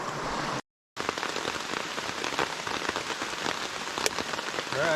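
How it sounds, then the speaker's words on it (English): Rain begins falling in Pisgah National Forest at a backcountry campsite, a dense steady patter on surfaces with scattered louder drops and no talking. "the rain has started"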